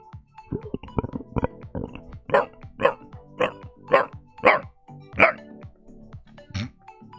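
A dog barks in a steady series of about ten sharp, fairly close barks, spaced roughly half a second apart, with short growly sounds at the start.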